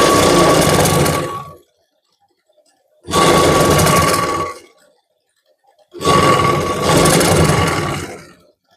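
A sewing machine stitches a blouse sleeve in three loud, steady runs of about a second and a half each, separated by short silent pauses.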